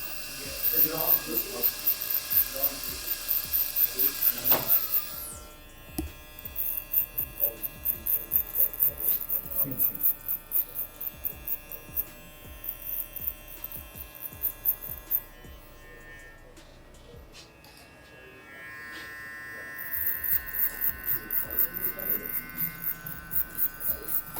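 Electric hair clippers buzz steadily at close range while hair is faded, the high whine dropping out and resuming as the blade guard is adjusted, with a person talking intermittently under the hum.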